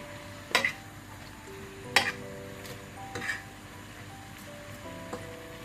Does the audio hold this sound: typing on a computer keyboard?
no